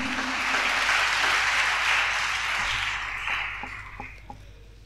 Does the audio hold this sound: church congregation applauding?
yes